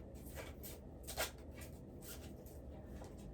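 Tarot cards are shuffled and drawn in a quiet room, giving soft, faint papery riffles and a few light flicks and slides.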